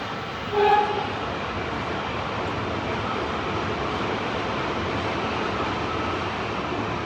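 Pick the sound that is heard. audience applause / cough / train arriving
train arriving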